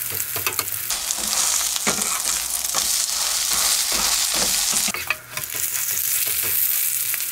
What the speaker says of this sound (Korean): 계란물 바른 것부터 구워보겠습니다